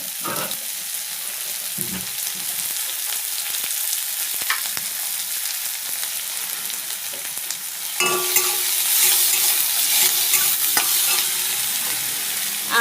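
Chopped tomato goes into a frying pan for an egg and bottle gourd curry, with steady close sizzling throughout and occasional stirring scrapes. The sizzle grows louder and brighter about two-thirds of the way through.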